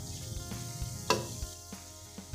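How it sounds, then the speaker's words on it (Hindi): Spiced masala with yogurt frying in a pan for seekh kabab pulao, a soft steady sizzle with occasional stirring scrapes and clicks, close and fairly quiet, with no voices. "दही डाल के हमने 1 मिनट के लिए इसे भूनना है"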